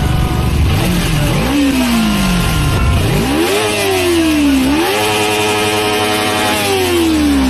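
A Kawasaki Ninja 300 motorcycle engine revs loudly up close, climbing and falling through several sweeping throttle blips over a steady idle rumble.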